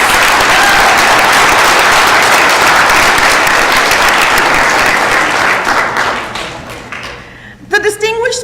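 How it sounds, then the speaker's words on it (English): A loud, dense wash of applause from the crowd at a graduation ceremony for law-studies graduates runs unbroken for several seconds, then tapers away and gives way to a speaking voice. "So again, one more round of applause for these awesome individuals"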